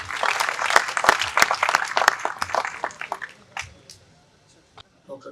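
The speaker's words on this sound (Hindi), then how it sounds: "जनाब उमर अली अंजुम, आपकी भरपूर तालियां बनी।" Poetry recital audience at a mushaira in Islamabad's Lok Virsa applauding poet Umar Ali Anjum, a loud burst of many sharp claps that thins out and dies away to a few scattered claps near the end.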